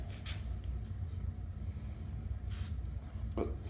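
Short bursts of hissing aerosol spray onto Can-Am Ryker motorcycle handgrips cut through a steady low rumble, one near the start and a longer one later on.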